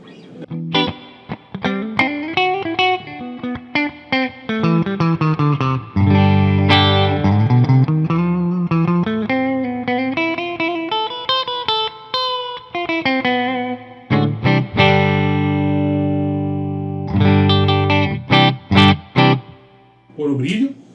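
Clean electric guitar through a Two Rock Amethyst amplifier with extra reverb dialed in, Celestion speakers miked close: flowing picked lines and ringing chords played loud and alone, with a few short choppy stabs toward the close.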